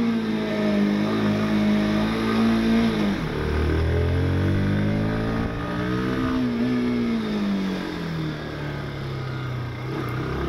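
A 160cc motorcycle ridden aggressively, its engine revving up and down through gears in rising and falling sweeps, close and loud with steady wind rush.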